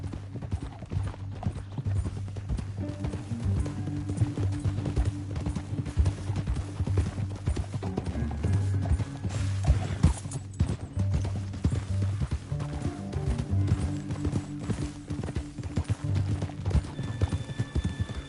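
Red Dead Redemption 2 video game: steady clip-clop of horse hooves at a gallop, with occasional whinnies, over a continuous low musical drone.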